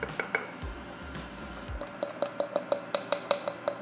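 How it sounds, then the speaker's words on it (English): The glass jug of a Petrus PE 2100 drip coffee maker is handled. A few dull knocks come first, then a quick run of bright, evenly spaced glassy clinks, close and crisp. "This is the glass jug, as you can see,"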